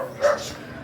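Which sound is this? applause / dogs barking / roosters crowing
dogs barking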